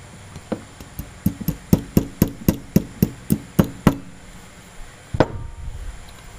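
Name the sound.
light taps on carburetor float retaining pin, Honda Recon 250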